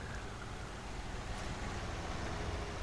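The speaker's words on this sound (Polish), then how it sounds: "A głośny twój ciągnik." A loud tractor engine in a multiplayer farming simulator game drones steadily and without a break for a few seconds, a dense, even rumble with no voices over it.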